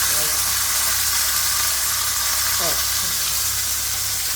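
Butter-coated potatoes sizzle while grilling in an oven, a dense continuous hiss that stays loud and even throughout, with a voice talking briefly over it.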